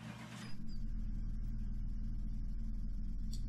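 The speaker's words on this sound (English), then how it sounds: "You can actually hear it rumbling just a little bit." Idling car engine in the driving game Car Mechanic Simulator 2018, a steady low rumble with a fast regular pulse that begins after a brief startup burst and keeps running evenly, with no speech.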